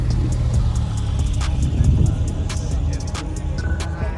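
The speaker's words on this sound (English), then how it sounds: "Titanium exhaust on this McLaren right here." A McLaren 600LT fitted with a titanium exhaust idles and revs at a car meet, a loud, steady low rumble close by with brief revving swells and background crowd noise.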